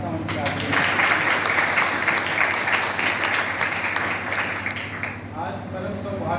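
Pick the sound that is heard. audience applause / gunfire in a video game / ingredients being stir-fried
audience applause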